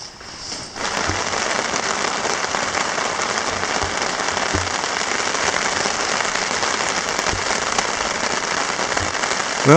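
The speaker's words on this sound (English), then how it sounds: "as you can hear, it is now raining here quite a bit" Steady, dense rain hisses across the whole stretch on a Boundary Waters lake lagoon, with scattered louder drops pattering nearby on a surface and no talking.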